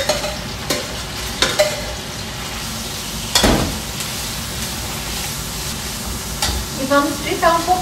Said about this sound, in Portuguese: E vamos fritar um pouquinho.